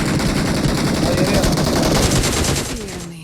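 Dense, loud gunfire from a shotgun in the battle royale game PUBG, shots crowding into one continuous clatter for about three seconds before easing off, with a falling tone trailing at the end.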